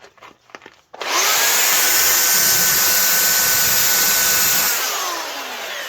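A power tool bevels the top edges of a wooden tabletop made from used materials, starting abruptly after a few light knocks and then holding a loud, steady, close whine that eases slightly toward the end.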